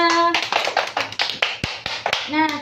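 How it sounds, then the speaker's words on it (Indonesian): Classroom children clapping together for a group during a fifth-grade science lesson, a short run of sharp, rhythmic claps with voices calling out between them. "Tepuk tangan buat kelompok 3."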